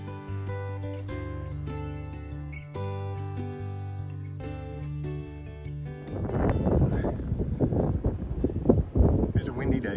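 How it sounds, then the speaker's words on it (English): Wind blows outdoors on a windy day near farmland, buffeting the microphone in a loud, gusty rumble that takes over in the second half after steady tonal sound. "It's a windy day"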